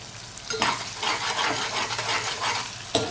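Onions, tomatoes, green chillies and curry leaves fry in hot oil in a pan, a steady close sizzle with scraping stirring strokes and a sharp clink of the utensil near the end.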